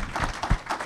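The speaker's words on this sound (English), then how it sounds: "Let's have a round of applause for both gentlemen." Brief applause from an audience at a public conversation event with two state legislators, a few uneven claps heard at moderate distance within under a second.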